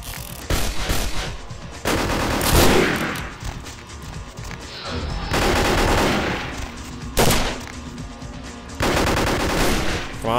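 Gunfire in the Vampire the Masquerade video game: loud, dense bursts of rapid shots and volleys, repeating in waves with short lulls between them, carrying no talk.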